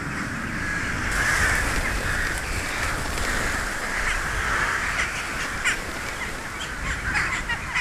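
Jackdaws and rooks squabbling over roosting spots in a bamboo forest, a dense continuous chorus of overlapping caws and chatter from many birds, loud and constant.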